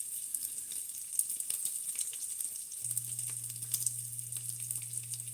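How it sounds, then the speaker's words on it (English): Baked potato cubes frying in a pan with onions and bacon, giving a continuous soft sizzle with scattered crackles and pops and a low steady hum underneath. "I bake the potato first and then cut them into small squares and fry them again with onions and bacon."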